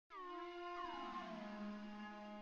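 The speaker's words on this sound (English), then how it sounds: "Let's load up Omnisphere here and try and find a cool pad sound" A sustained Omnisphere synth pad enters abruptly and holds a rich tone for a couple of seconds, bending slightly in pitch so it sounds almost like a howl, quiet and alone.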